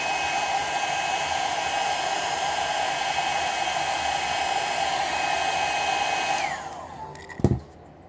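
A heat gun or hair dryer warming an Air Jordan 16 XVI shoe during a cherry wood swap blows a steady, close whooshing hiss that winds down and stops near the end, followed by a faint knock.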